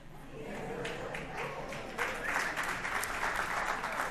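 Applause from a large gathering of about 115 people crowded inside a house during a church talk, a steady dense patter that swells louder midway and continues at full strength to the end.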